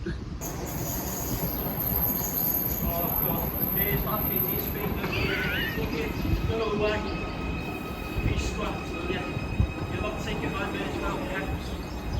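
A Merseyrail Class 777 electric train rumbling along the rails with a steady low roar, faint wheel squeal and whining tones, heard close from on board or at the platform while people talk over it.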